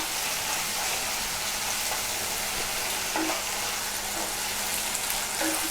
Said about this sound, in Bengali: 1 চামচের মধ্যে আদা এবং রসুন পেস্ট। এইভাবে আমি 1 মিনিট নাড়াচাড়া করব।